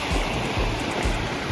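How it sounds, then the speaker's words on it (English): Ocean surf rolling onto a beach on Havelock Island, a loud, steady wash of breaking waves close by with a low rumble pulsing underneath and no voices. "Here we have amazing waves"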